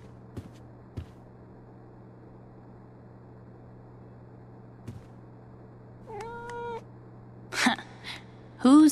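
A cat in the video game Life is Strange: True Colors meows once in a drawn-out, wavering cry, with a few faint knocks before it and short sharp sounds after, over a low steady hum.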